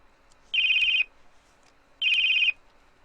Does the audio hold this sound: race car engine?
no